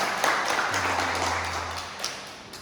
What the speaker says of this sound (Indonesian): Tepuk tangan untuk Rafael